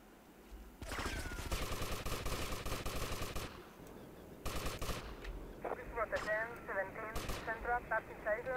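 Bursts of automatic gunfire in Grand Theft Auto Vice City, including an MP5, come in rapid rattling volleys with short pauses between, fairly loud and mixed with game effects.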